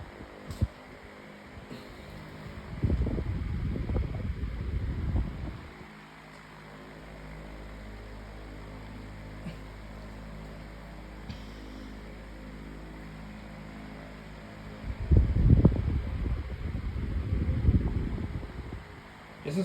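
Holmes 20-inch pedestal fan running at high speed, a steady airy whoosh and hum close by, with louder gusting surges near the start and end.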